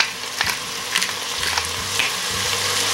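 Onion and vegetables for chicken ajiaco sizzle steadily in a pot, a close, continuous frying hiss broken by several scraping stirs, with no talking.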